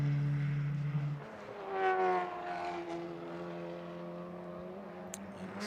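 Audi race car from the McCann team lapping in TC America qualifying at Virginia, its engine note rising and then easing off as it cruises rather than revving hard, steady and moderately distant with no voices.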